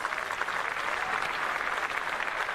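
A studio audience at the Indonesia Awards 2023 applauds for iNews Media Group, a dense, sustained clapping that fills the whole moment with no speech over it.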